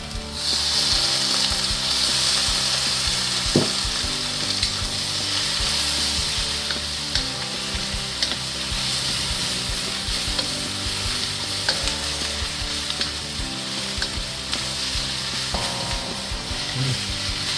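Yakisoba noodles and vegetables dressed with soy sauce stir-fry in a hot pan, a steady close sizzle with repeated scraping and clacking of the utensil against the pan, no voices.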